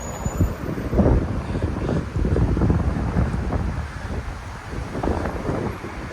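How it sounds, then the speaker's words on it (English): Gusty wind in Orlando, Florida roars across the microphone, rumbling low and rising and falling in strong bursts. "It's windy in Orlando today."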